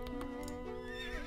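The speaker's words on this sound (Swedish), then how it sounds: "Jag kommer med min häst." A Gotland pony neighs nearby, giving a loud, wavering whinny that carries through the clip on its own with no voices.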